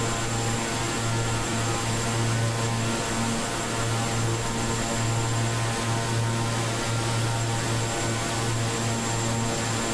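Steady, continuous drone of a Black Square King Air turboprop's engines in Microsoft Flight Simulator 2020, heard from the cockpit in cruise, a loud unbroken hum with tonal bands throughout and no talking.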